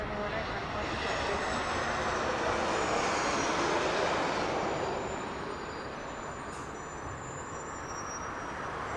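A jet airliner roars down runway 1 on its takeoff roll at Las Vegas Harry Reid International Airport, a broad, loud engine rush that swells and then slowly recedes into the distance.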